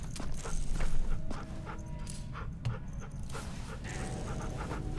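A dog pants in The Walking Dead Final Season video game, quick breathy huffs repeating steadily over a busy game soundscape that includes light clip-clop-like thuds.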